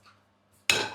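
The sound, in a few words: clay cooking pot (chatti) being set down on the stove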